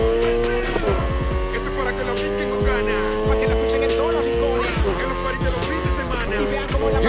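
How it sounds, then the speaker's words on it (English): A car slides through a drift in NFS Heat, with loud, steady engine roar and sustained tire squeal, plus repeated sharp screeches as the tires break traction. "You're drifting."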